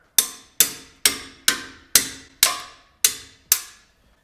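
Eight sharp metallic hammer taps on pliers against a brake caliper pin of a first-generation Toyota Tundra, in a steady, evenly spaced rhythm, each ringing briefly before fading, close by.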